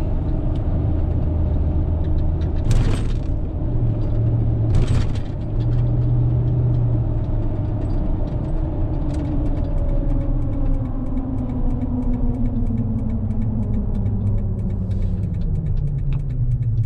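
A lifted Toyota Tundra crew cab 4x4 cruises along with a steady low engine rumble and road noise, the pitch slowly rising and falling as it drives, with a couple of brief louder bumps.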